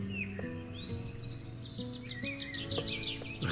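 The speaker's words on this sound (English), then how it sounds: "listening to the birds singing in the trees." Songbirds call and chirp in trees outdoors, with bright repeated twittering phrases over a steady low background of music or ambience.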